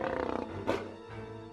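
A mountain lion roars loudly and close, a rough, throaty growling roar that swells, peaks sharply midway, then trails off into a lower rumble.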